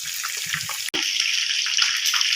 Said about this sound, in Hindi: तकरीबन हम इनको 4 मिनट के लिए फ्राई करेंगे।